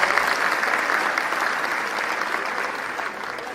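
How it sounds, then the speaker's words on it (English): Audience at a school annual prize distribution function applauding performance participants: a continuous, full wash of many hands clapping, loud and even throughout. "Please give a huge round of applause to all the participants."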